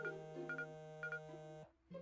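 A phone plays a short melodic text-message notification tone, bright and clean, with a couple of repeated chime notes that stop abruptly, followed by a brief new sound at the end.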